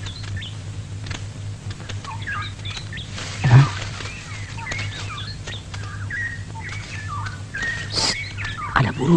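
Birds chirping in a forest, scattered short tweets and calls at varied distances over a low steady hum, with one louder thud partway through.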